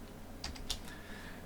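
Two or three quick computer keyboard key presses for a Shift+P shortcut in Illustrator, short faint clicks against a quiet background hum.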